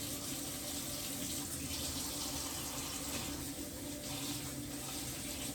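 Freshly harvested lettuce rinsed under a running tap, a steady, close, even gush of water pouring into a sink for several seconds with no talking.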